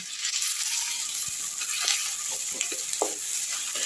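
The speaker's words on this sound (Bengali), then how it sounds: "আদা রসুনের পেস্ট দিয়ে আবার একটু ভালো করে নেড়ে চেড়ে নিচ্ছি।" Onion with ginger-garlic paste frying and being stirred in a pan for keema curry, a steady close sizzle with faint scraping from stirring, no talking.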